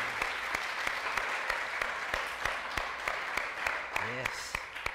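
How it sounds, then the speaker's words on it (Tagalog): A church congregation applauds for God in steady, sustained clapping, with a voice speaking briefly over it near the end. "Yung palakpak para sa Diyos."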